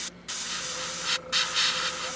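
Spray paint hisses through a stencil onto a Gundam model in steady, close bursts, with two brief pauses between sprays.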